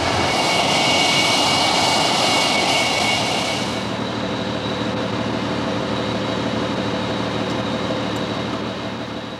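A twin-engine English Electric Lightning jet roars loudly in flight, a broad sustained engine noise that dips slightly in tone partway through and stays strong throughout.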